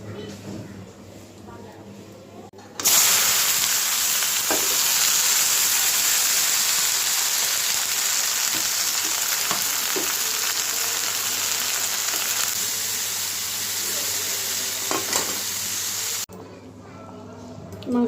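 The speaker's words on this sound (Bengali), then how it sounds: "তো বেগুনগুলো প্রথমে একটু ভেজে নেব" Pieces of eggplant frying in a pan in a home kitchen, giving a steady, bright sizzling hiss that starts suddenly and runs for about thirteen seconds with faint crackles before dropping away.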